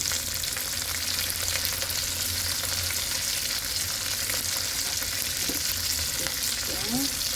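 Garlic and onion sizzle steadily in hot oil as they are sautéed for pinakbet, a continuous close frying hiss with occasional stirring scrapes near the end and no talk.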